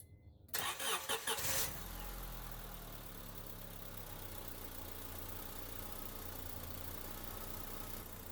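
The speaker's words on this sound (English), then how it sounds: "Now we can go inside the car and start it." A 2001-2005 Honda Civic engine, just fitted with a new alternator and jump-started, cranks briefly with a rough stuttering burst, then catches and settles into a steady low idle that continues to the end.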